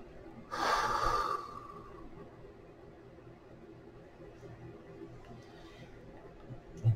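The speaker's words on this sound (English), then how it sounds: "We're gonna take a breath together." A single deep breath drawn in close to the microphone, lasting about a second and a half, followed by a quiet room with faint background hiss.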